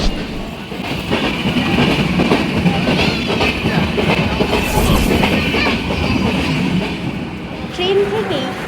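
An Indian Railways passenger train runs toward Khirai station with a loud, continuous rumble and rhythmic clickety-clack of wheels close by inside a crowded carriage, a brief squeal near the end, and indistinct chatter from passengers beneath the noise.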